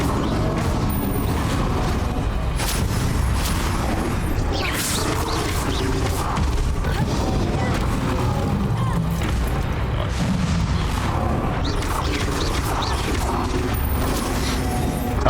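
Expelliarmus spells cast repeatedly in the Hogwarts Legacy video game amid a dense, loud battle of booms, crashes and whacks, continuous throughout with faint voices mixed in.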